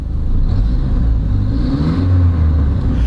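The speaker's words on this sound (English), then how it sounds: "you can hear it's got a little bit of an exhaust leak" An old truck engine idles with a small exhaust leak, giving a loud, close, low rumbling chug with a steady uneven pulse over about three seconds, no voices.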